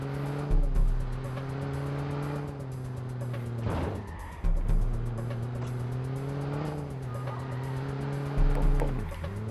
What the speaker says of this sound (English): I got like a 500 horsepower car and you have like some shitty Golf.